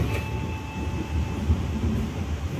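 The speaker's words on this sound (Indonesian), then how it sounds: "ini udah mulai memelan keretanya" A Direct Train passenger train on the Gambir–Semarang Tawang line slows on its approach into Semarang Tawang station, a steady low rumble of wheels and carriage with faint tonal hums, heard from inside and without talk.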